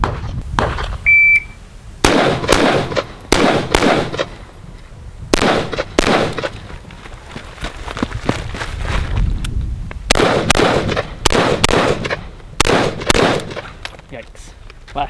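Sharp gunshots ring out at an outdoor shooting range during a training drill with two rounds on each target, fired in quick pairs and clusters with short pauses between strings, loud and close.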